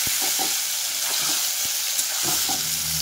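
Amla frying in well-heated oil with asafoetida for pickle, a steady loud hiss and sizzle throughout, with scattered scrapes and light knocks of a spoon stirring in the pan.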